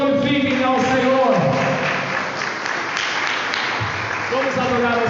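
Church congregation clapping in praise at a Brazilian Pentecostal service, a dense steady wash of hands under sung or spoken worship voices throughout.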